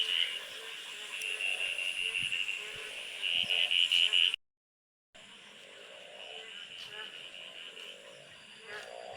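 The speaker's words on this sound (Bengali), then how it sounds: "ঘ্যাঙর ঘ্যাঙর করে ডাকছে।" Frogs croak through light rain in a steady pulsing chorus with shrill high trills, cut by a brief silent gap before the calls resume more softly.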